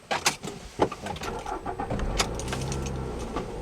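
Keys jangle and clicks precede a 2009 Toyota Corolla XRS manual starting up, the engine catching and settling into a steady idle hum in the closing seconds, heard close and fairly quiet.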